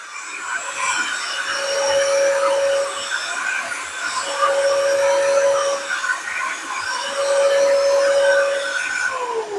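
A cordless 20-volt HVLP paint sprayer runs with a steady airy hiss and motor whine, and a thin whistling tone rises and drops away three times in the repeated bursts.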